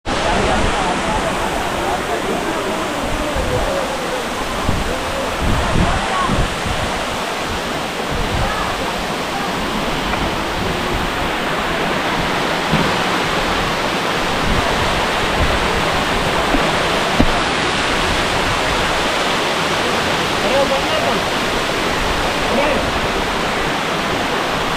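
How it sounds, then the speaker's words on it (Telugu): Katiki waterfall at Araku roars as a steady, dense wash of falling water, loud and continuous throughout with no break. "వాటర్ ఫాల్స్ కూడా చూడ్డానికి కూడా నెక్స్ట్ లెవెల్ ఉన్నాయి"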